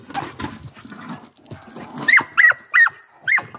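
A young female hound growls low and rumbling under a faint background, then breaks into four sharp, close, whining yelps spaced about a third of a second apart.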